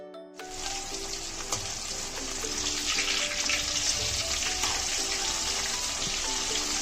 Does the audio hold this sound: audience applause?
no